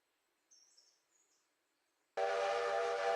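A train in the railway game Railroader starts up suddenly after near silence, a loud sustained rumbling roar with strong tonal layers that cuts in partway through and holds steady to the end, with no voices.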